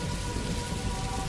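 Steady rain drums and patters outside in a dense, even wash that runs unbroken at moderate loudness, with no voices.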